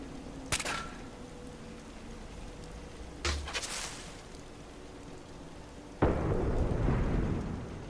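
A thunderstorm in Fallout 4 brings a steady hiss of rain with two sharp thunder cracks early on, then a louder surge of rain and rumble near the end, with no talk.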